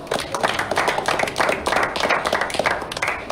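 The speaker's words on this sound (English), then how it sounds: "Please give a round of applause to Harry Chavla." Audience applause at a poker tournament final table in Jacksonville, greeting a player as he is introduced; dense, steady clapping from a crowd fills the whole stretch at a moderate level.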